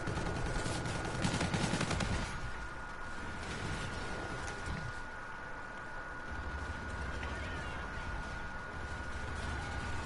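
Gunfire in Call of Duty Infinite Warfare: a busy burst of rapid shots in the first two seconds, then steadier, softer automatic fire and distant shooting under a constant hum of game ambience, without any speech.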